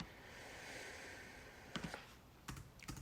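A computer keyboard sounds faintly under steady background hiss during coding work, with a few short bursts of key clicks near the end.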